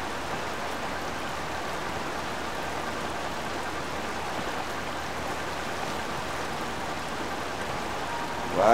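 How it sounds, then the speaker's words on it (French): Rain in the video game Zelda Tears of the Kingdom: a steady, even hiss of falling raindrops, continuous and moderately soft, with no other sounds over it. "quand ça se décidera à arrêter de pleuvoir"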